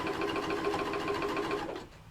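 Sewing machine stitching binding slowly around a vanity case near the handle, a close, steady rapid mechanical whir that stops abruptly near the end.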